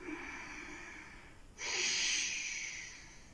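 A strong exhale during a yoga routine, starting midway as a loud breathy rush after a quieter stretch of soft breathing, close and alone.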